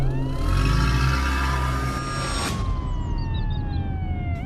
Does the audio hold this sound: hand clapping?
no